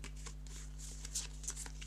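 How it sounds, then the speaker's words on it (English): Four cards from a board game deck are shuffled by hand: a quick, quiet papery riffle with a few sharper flicks, close and brief. "So we take all of the 4 cards we've got, and then we shuffle them"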